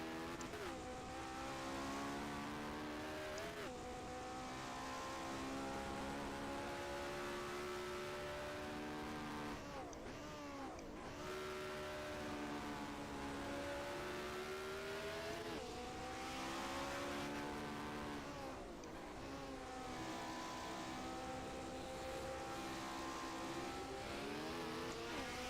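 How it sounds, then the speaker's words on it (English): A 1970s Formula One car engine in the racing video game F1 My Team 1970 at Great Britain drones steadily, its pitch rising and dipping through gear changes and revs, loud and continuous with no talk. "Or I don't know if that engine sounds weird."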